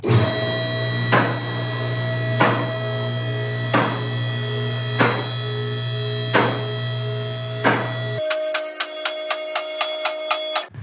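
A two-post car lift raising: a steady mechanical hum with regular heavy clunks about every second as it passes safety catches, then a faster series of sharp metallic clicks as it ratchets upward.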